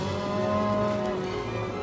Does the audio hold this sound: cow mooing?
yes